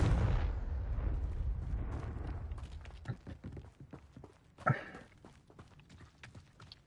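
A Confringo fire spell detonates in Hogwarts Legacy with a loud booming blast. Its rumble fades into scattered crackling debris and footstep-like taps, and a sharp secondary pop comes near the end.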